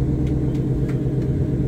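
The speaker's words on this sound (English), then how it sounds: "Hear that exhaust? This is a factory exhaust." Ford Mustang factory exhaust rumbling steadily, a deep continuous low-pitched engine drone heard from inside the car with faint faster ticks above it.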